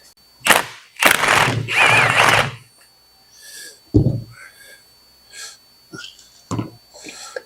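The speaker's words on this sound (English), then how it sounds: "first thing you want to do is get the right size Allen wrench" An Allen wrench loosens the fork damper rod bolt on a Yamaha V-Star 650 motorcycle, giving several close bursts of ratcheting, grinding metal clicks separated by short pauses, with no speech.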